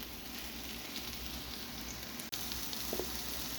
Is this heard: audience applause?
no